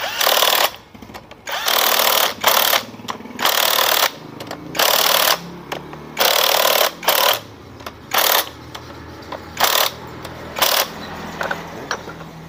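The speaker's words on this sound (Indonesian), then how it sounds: "Kita kencangkan pakai kunci ya, pakai kunci 12." A 12 mm wrench tightens a bolt during piston installation on a Honda Spacy FI or Beat FI scooter, giving repeated bursts of sharp ratcheting clicks in an uneven rhythm, close and fairly loud, with brief pauses between strokes.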